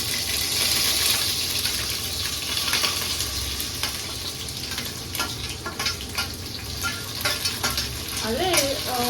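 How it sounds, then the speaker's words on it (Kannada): Spices and dried chilies fry in oil in a pan for chicken sambar, giving a loud continuous sizzle with frequent stirring scrapes and clinks and a short wavering tone near the end. "ಇದನ್ನೆಲ್ಲ ಇವಾಗ ಒಂದು ಸ್ವಲ್ಪ ಫ್ರೈ ಮಾಡ್ಕೊತೀನಿ ಎಣ್ಣೆಲಿ"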